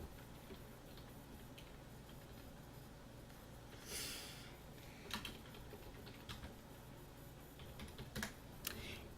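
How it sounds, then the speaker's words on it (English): Keyboard typing for an email subject line in Microsoft Outlook 2010: a faint, quiet room tone with scattered soft key clicks, a brief burst of taps near the middle and more toward the end, with no talking. "we're going to go ahead and type a subject"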